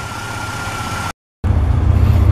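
A car engine idles steadily with a deep low rumble from the exhaust, close and continuous, cut by a short gap of silence before resuming slightly louder; the car has moisture problems, with the exhaust dripping water and putting out a little steam.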